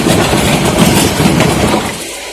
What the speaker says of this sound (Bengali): এই যে ট্রেন একটা চলে যাচ্ছে